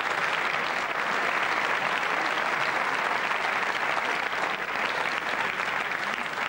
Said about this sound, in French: Ils sont là, vous pouvez les applaudir.